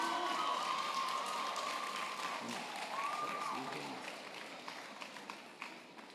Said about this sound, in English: Clap him, clap him.